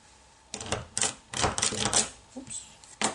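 A hand punch is pressed repeatedly through three layers of craft paper, giving a series of sharp, close clicks and thumps in small irregular clusters, each press striking quickly on a quiet background.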